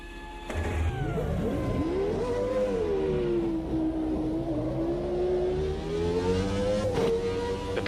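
Renault V10 Formula 1 engine in the racing game Automobilista 2, revving up from a stall and then holding a steady, high-pitched whine with small rises and dips, loud and close with no talking.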